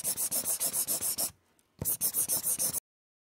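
A red pencil colours in Europe on a world map in quick rhythmic back-and-forth strokes, with a short pause before the scratchy strokes resume, close and distinct.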